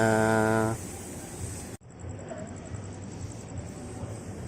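A KRL commuter train hums at a platform at Bogor station, a rising electric whine fading out, then a sharp clunk followed by steady station rumble and faint chatter.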